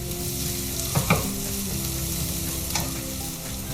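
Onion sautés in a pan for Kerala chickpea curry with a steady close sizzle, while a few sharp stirring scrapes rise above it and no one speaks.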